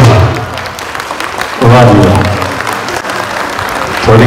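Audience applause swells after a Punjabi folk dance performance by young men on stage, steady dense clapping from a crowd that surges louder partway through and again near the end.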